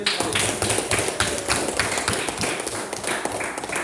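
Students in a classroom give a round of hand claps, a dense patter of overlapping slaps that carries on steadily and fairly close, with no talk over it.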